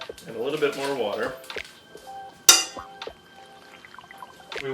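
Water is poured into a pan of cacio e pepe with butter in a home kitchen, a brief splash and trickle after a person talks, followed by quieter liquid sounds.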